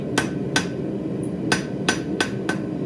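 Hammer striking hot metal while forging a coffee scoop handle, six sharp ringing blows spaced at a steady, slightly uneven rhythm, close and loud with no talk.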